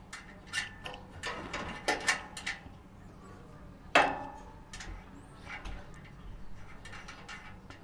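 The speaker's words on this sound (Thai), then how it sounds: "หลังจากที่ผมใส่น็อตตัวแรกเข้าไปนะครับ ผมก็จะ ใส่น็อตเพิ่มเข้าไปอีกตัวหนึ่งเพื่อเป็น ตัวล็อกไม่ให้น็อตตัวข้างในเนี่ยมัน คลายออกไปนะครับ" Metal nuts being tightened onto the mounting hardware of a solar panel fixed to a post on a front-house balcony, with clicking ratchet and metallic clinks in irregular bursts, one sharp clank standing out, close by with no talking.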